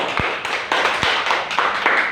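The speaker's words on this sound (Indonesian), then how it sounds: "kita tepuk tangan untuk semangat kita hari ini" Schoolchildren clap their hands together at the end of a lesson, a series of sharp, close claps in a loose rhythm with a couple of low thumps.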